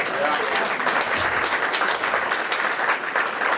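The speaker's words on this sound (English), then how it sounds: "Do you guys agree with applause?" Comedy club crowd at a stand-up show breaks into sustained applause, a thick, even clatter of many hands close by, with faint voices blended under it throughout.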